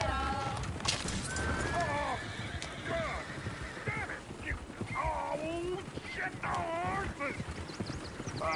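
Horses whinny and neigh repeatedly amid clip-clopping hooves in the video game Red Dead Redemption 2, close and busy, with a voice talking over the animals.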